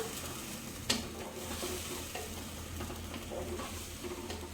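Palak biryani being stirred and mixed in a pot, a steady scraping and sizzling texture with one sharp clink near the start, close and continuous without talk.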